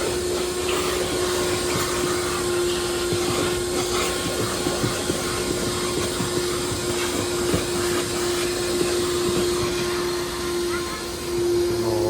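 An electric vacuum cleaner runs at a car wash in Kandahar city, a loud steady drone with a constant motor hum, while someone talks over it throughout.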